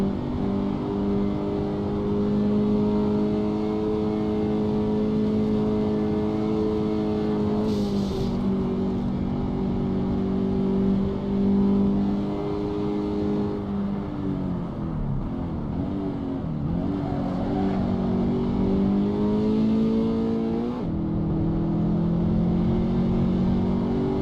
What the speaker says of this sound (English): I have a very good engine on my car.